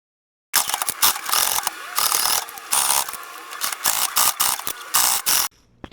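A sewing machine runs a straight stitch across a quilted ruffle tote bag, close and loud, in several quick rattling runs broken by brief pauses before stopping abruptly.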